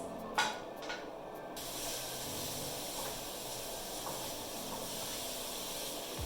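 Garlic and chopped vegetables hitting hot oil in a pan for Korean rice cakes, a brief clatter then a steady, broad sizzling hiss that holds evenly throughout.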